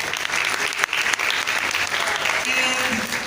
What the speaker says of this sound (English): Ladies and gentlemen, another round of applause for our panelists.